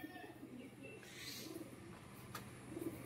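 Domestic pigeons, including a female, coo softly in low, repeated murmurs, faint and close, with light chirps and rustling in a quiet space.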